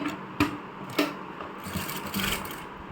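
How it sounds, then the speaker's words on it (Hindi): A sewing machine stitches lace onto a small doll dress and cap, running with a soft, steady hum broken by a few faint clicks and knocks at close range, with no voices. "इस तरीके से इसको इतना ऊपर रखते हुए मैं इस पर भी एक सिलाई लगाऊंगी पहले।"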